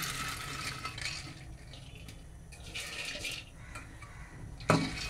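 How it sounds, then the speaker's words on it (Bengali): Soaked lentils go into a pressure cooker with soft wet shuffling and pouring sounds, then end in a single sharper metallic clank against the pot. "রাতে ভিজিয়ে রাখা ডালটা, সে ডালটা সব কুকারে আমি দিয়ে দিচ্ছি"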